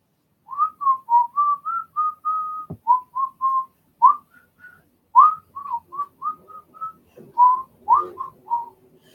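A man whistles a wavering, off-key tune alone, a string of short and held notes over about nine seconds, fairly close and moderately loud, with one brief thump partway through.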